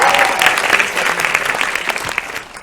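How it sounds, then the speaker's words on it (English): A launch-event audience for Horrible Histories series five breaks into applause, a dense burst of clapping that stays full and slowly thins over a few seconds. "they were applauding them"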